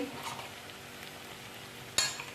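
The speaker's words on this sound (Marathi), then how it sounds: "आता त्याच्यामध्ये हळद टाकते हलवून घ्यायचं व्यवस्थित तेलामध्ये हळद" Turmeric being stirred into hot oil with ground spice paste gives a faint, low sizzle, then a sharp metallic clink of a spoon against the pan near the end.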